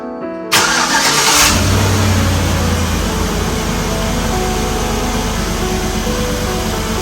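The 5.3 V8 of a GMC Envoy XL catches after a crank and settles into a steady, loud idle up close, a continuous low rumble with no voices.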